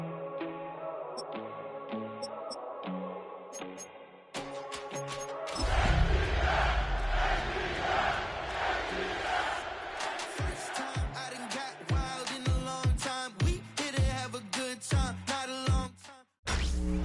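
A Madden NFL 26 stadium crowd swells into loud, sustained cheering beneath booming game music and sharp percussive hits, building steadily for several seconds with no voices speaking.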